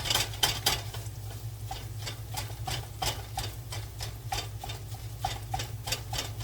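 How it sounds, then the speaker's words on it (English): A meat cutter tool chops and breaks up browned ground meat in a pan, repeated sharp scraping clacks in a steady rhythm over a faint sizzle, close and distinct. "let's get this meat cutter in here and finish the job. Really grounds it up good."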